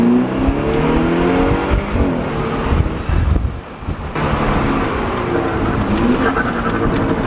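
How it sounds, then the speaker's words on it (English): A loud BMW F30 engine with a Go Fast Bits diverter valve idles and revs with sharp exhaust pops and crackling burbles, with some wind buffeting the microphone. "sometimes I just get really loud pops"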